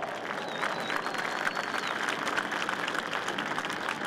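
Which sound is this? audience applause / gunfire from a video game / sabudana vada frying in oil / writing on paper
audience applause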